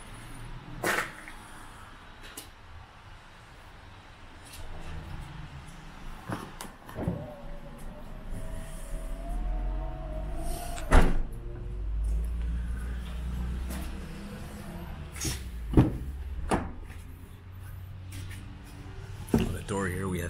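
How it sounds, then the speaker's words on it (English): The automatic rear hatch of a 2016 Chevrolet Tahoe LT opens: a motor whines steadily for several seconds, with sharp clicks and clunks before and after it, heard close up. "Automatic rear hatch."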